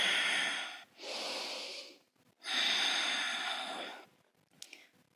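Breathing during a core workout comes in two long, airy exhales through the nose with a short inhale between, close and soft, then fades into quiet with a faint catch of breath.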